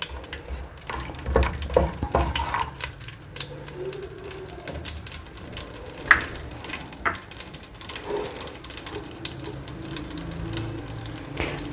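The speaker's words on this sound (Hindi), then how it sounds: "इनको आपने 1 मिनट के लिए फ्राई करना है" Bay leaves and garam masala frying briefly in a pan for matar pulao, a low steady sizzle with scattered clinks and stirring knocks, a few louder utensil taps standing out, no talking over it.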